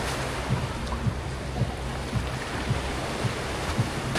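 Sea waves wash steadily against rocks at the far end of a beach, a constant surf roar with a faint low rhythmic pulse and some wind.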